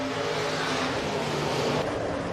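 Race cars circling a dirt oval during a heat race at Rapid Speedway on a Friday night, a steady, dense engine roar that holds without a break, with no one speaking.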